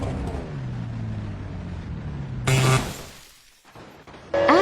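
An Alfa Romeo engine in a car video game hums at a low, sustained pitch, then breaks into abrupt, louder bursts of revving and crashing noise near the end.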